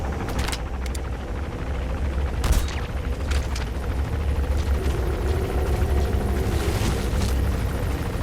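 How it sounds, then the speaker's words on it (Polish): A helicopter in the video game Metal Gear Solid V: The Phantom Pain keeps up a dense, steady rotor roar, mixed with booms and bursts of gunfire, loud and continuous throughout. "Na razie z helikopterem tutaj nie będę walczył."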